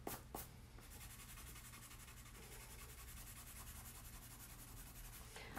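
Steady, continuous rubbing of a pencil eraser across paper as pencil lines are cleaned off a drawing inked in black, close and soft, after a couple of brief taps at the start, without talk.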